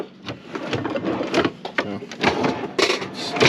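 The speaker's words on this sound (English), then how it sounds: "And there's all these drawers." Drawers in the camper kitchen of a 1981 Jeep Wagoneer being slid open and shut, a rapid series of close wooden rattles, knocks and scrapes, with someone talking in between.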